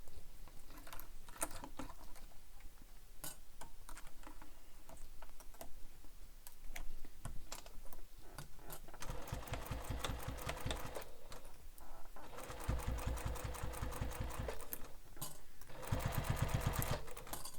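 Sewing machine back stitching a beach bag, its needle running in rapid, steady mechanical ticking bursts, fairly faint and close, speeding up and pausing between runs, with no talking.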